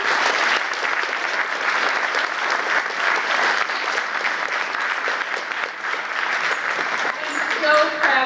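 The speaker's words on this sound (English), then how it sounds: "A round of applause for our children." Audience applause for children at an elementary school poetry night, a dense, steady wash of clapping lasting the whole stretch, with a few voices rising near the end.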